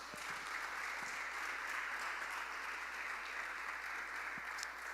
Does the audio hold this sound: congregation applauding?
yes